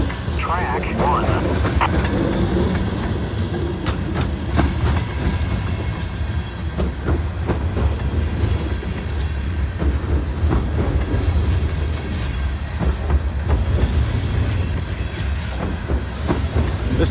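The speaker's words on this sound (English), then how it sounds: "This train is on track 2." A long freight train passes on the track during a snow emergency, a close, steady roar of rolling cars with repeated wheel clacks and faint squeals, with someone speaking over it.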